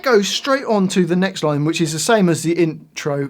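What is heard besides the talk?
No everyday noises stand out.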